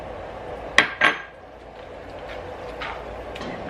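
Two sharp, close clinks of a utensil against a pan or bowl while sliced tomatoes are mixed into vegan, gluten-free, dairy-free fettuccine alfredo, followed by near quiet.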